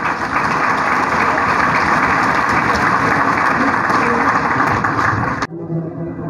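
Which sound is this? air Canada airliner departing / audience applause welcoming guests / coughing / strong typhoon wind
audience applause welcoming guests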